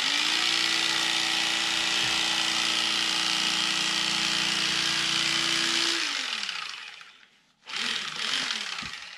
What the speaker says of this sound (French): Voici la différence de coupe avec un couteau électrique.